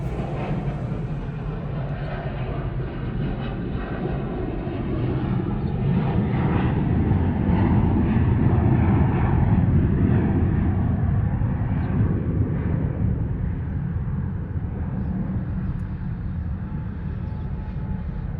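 Steady, loud aircraft engine roar at Denver airport, a broad continuous rumble that swells slightly mid-clip and holds without talk.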